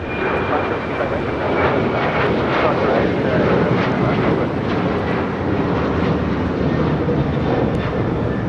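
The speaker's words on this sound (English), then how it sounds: "This is Alaska Airlines Flight 310 taking off to Washington Dulles on a 737-900ER" Alaska Airlines Boeing 737-900ER jet on its takeoff roll, a steady, loud, broadband engine roar that persists throughout with slight swells, with faint voices or background noise in the mix.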